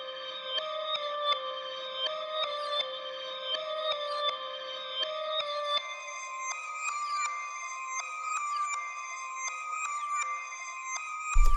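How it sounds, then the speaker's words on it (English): A shimmering, swelling pad of layered tones with a backwards, reverse-reverb feel from a reversed, reverb- and EQ-processed sample in FL Studio, sustained chords building steadily and ending in an abrupt low thump. "And then I reversed it so it sounds like this."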